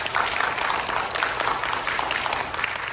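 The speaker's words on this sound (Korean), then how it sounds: "인사할 때 우리 환영하는 의미로 박수해 주시면 좋겠습니다" A church congregation claps steadily to welcome two new ministers at a Sunday service, a dense, continuous round of applause filling the room throughout.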